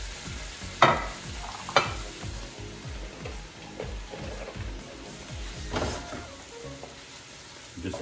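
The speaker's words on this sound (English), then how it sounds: "Just added our Spaetzle to the butter here. Give it a nice mix." Spaetzle noodles stirred into melted butter in a pan, giving soft frying sizzle with scraping utensil strokes and a few sharper knocks against the pan, continuous and close.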